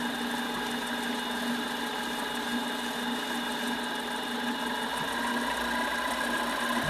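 A metal lathe runs a taper cutting pass with the tool post tightened down, giving a steady, even whine and hum with fixed tonal ringing and no break across the pass.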